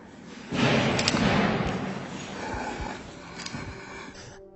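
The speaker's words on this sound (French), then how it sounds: "Une porte claque tellement fort" A door slams very loudly with a sudden, heavy bang, followed by a decaying rumble and a few softer thuds, close and with no voices.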